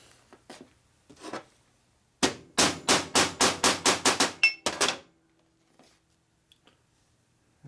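A hammer strikes metal to rebend the float fork of an old Linkert M35 carburetor from a Harley, first a few light taps, then a fast run of about ten sharp, close, evenly spaced blows.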